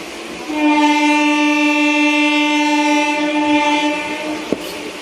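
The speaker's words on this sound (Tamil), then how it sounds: "பின்னாலேருந்து உங்களை ஹார்ன் போட்டாங்க" Train horn sounding from behind a moving train, one long loud harmonic blast of about four seconds over faint rolling rail noise, ending with a sharp knock.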